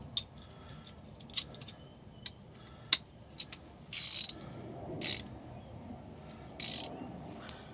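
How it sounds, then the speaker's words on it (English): A GearWrench 90-tooth ratchet turns a bolt during alternator work on a 2008 Infiniti QX56 5.6L, giving sharp isolated clicks, then quick bursts of fine ratcheting in short strokes, close and fairly quiet. "I'm going to use the gear wrench 90-tooth ratchet."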